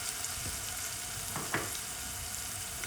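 Ethiopian shiro sauce with potato being mixed in a pan, giving a steady low sizzle with a few soft stirring scrapes, close and fairly quiet, no talking.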